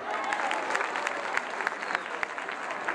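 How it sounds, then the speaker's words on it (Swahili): A gathered crowd bursts into sustained applause, a thick, even wash of many hands clapping with a few sharper nearby claps standing out, murmuring voices faintly beneath. "Kwanza tuwapigie makofi."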